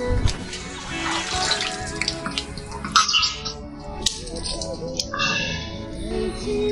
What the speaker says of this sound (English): Water seeping from stalactites.